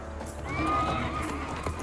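A horse whinnies loudly in a long rising and falling call while hooves clop in the background, part of the soundscape of the video game Mortal Kombat 11.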